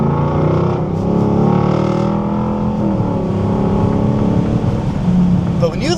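Lexus LC500 V8 with an aftermarket exhaust, a loud deep engine note holding and shifting in pitch with revs, steady and close for several seconds, with a voice faintly underneath.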